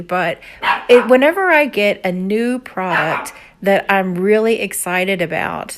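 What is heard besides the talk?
dog barking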